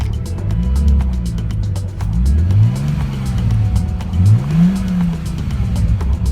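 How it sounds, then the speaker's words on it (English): A Bentley Continental GT with a W12 engine revs up and down in several rising and falling sweeps, loud and close, with some tire noise and no talk. "Bentleys are handmade beauties tuned with an aggressive W12 engine."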